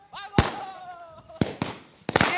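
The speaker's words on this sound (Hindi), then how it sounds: "ये आतिशबाजी देख लीजिए, ये आतिशबाजी हो रही है" Diwali fireworks and firecrackers burst in loud, sharp cracks, three or four close bangs in quick succession, while someone talks between them.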